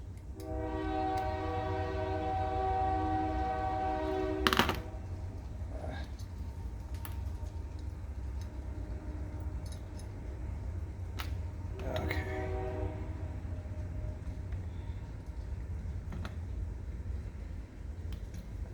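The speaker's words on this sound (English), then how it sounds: "And sorry for the train." A passing train sounds a long, multi-tone horn blast, then a second shorter horn sounds later, over a steady low rumble of rolling railcars in the background.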